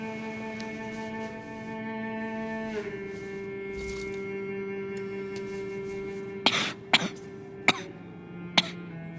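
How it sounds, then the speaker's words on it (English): Character coughing in the video game Life Is Strange: True Colors, a few short sharp coughs near the end over a sustained musical drone. "Yeah, just cough on my hand, why don't you?"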